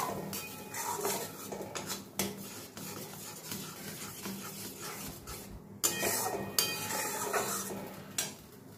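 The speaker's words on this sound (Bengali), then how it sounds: "দিয়ে গ্যাসের ফ্লেমটা সিমে রেখে আমি এটাকে কিছুক্ষণ ধরে কষিয়ে নেব।" Turmeric, salt and spices fried and stirred in a pan on a low gas flame for a Bengali paneer and potato curry, with steady scraping and rubbing of a spatula against the metal and a few louder bursts of clatter.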